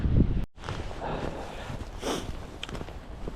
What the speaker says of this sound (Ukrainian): Холодно капець, мінус 5, ще й вітер 9 метрів